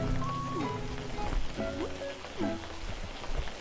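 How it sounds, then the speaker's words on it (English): Steady rain patters and hisses in the fishing video game Webfishing, with a few soft tonal game sounds drifting over the constant downpour and no talking. "Oh, it's raining."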